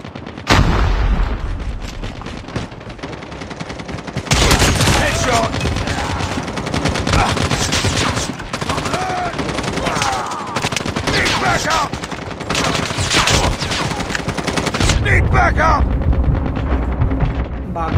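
Rapid gunfire from a Call of Duty match, dense bursts of shots and loud crackling volleys running nearly the whole way, with a brief lull near the start and game noise layered throughout.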